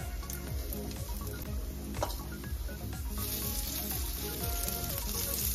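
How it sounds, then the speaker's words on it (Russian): Oil sizzles and crackles steadily in a frying pan of zucchini and oat fritters, a constant bubbling hiss heard up close with no talking. "Жарим до румяного цвета"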